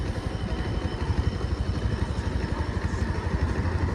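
Motorcycle engine running steadily during a night ride, a close, continuous low rumble with rapid pulsing clatter and no talk.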